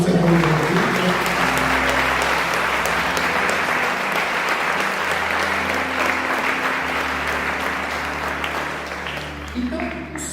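A church congregation applauds steadily and loudly for about ten seconds, the clapping dense and sustained with a low sustained musical tone underneath, fading slightly toward the end.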